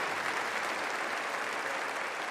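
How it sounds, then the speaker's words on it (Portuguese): A church congregation bursts into steady, dense applause for the word of God, a continuous wash of many hands clapping together at even loudness throughout. "Dá uma salva de palmas bem poderosa para a palavra de Deus."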